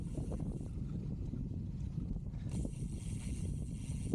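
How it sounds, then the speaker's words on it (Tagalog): Steady wind buffeting the microphone, a constant low rumble with rushing noise that strengthens midway, no voices. "Sobrang hangin ngayon, it's too windy."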